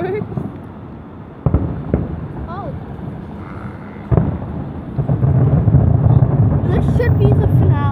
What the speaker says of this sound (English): Look, baby, fireworks.